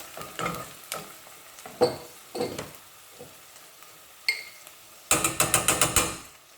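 Sausages dropped into a pan for Turkish kuru fasulye give a string of light clacks and scrapes, followed by a rapid rattling sizzle burst near the end, close and moderately quiet, with no talking.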